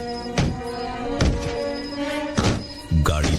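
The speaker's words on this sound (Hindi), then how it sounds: "पीछे की तरफ किसी के जोर जोर से कूदने की आवाज आ रही थी" Heavy, hollow thuds of someone jumping hard on the back of a car, four loud resonant impacts at uneven intervals over a steady low background.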